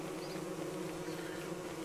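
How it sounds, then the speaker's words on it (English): Bees in the video game Don't Starve Shipwrecked give off a steady, continuous buzzing drone, fairly quiet and even, with no talk over it. "there's bees everywhere"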